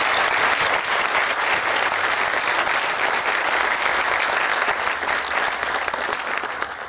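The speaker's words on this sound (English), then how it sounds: "Let's give him an applause even if he's not." A crowd at a high school inauguration applauds steadily in a thick, even roar of clapping that holds at full strength before easing slightly near the end.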